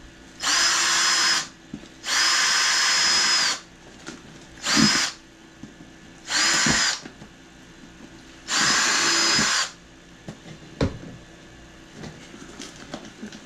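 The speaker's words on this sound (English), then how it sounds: "I just opened the most expensive one with a drill." A power drill bores into an Amazon mystery box in five separate loud whirring bursts, each a second or so long, with brief pauses and small handling clatters between them.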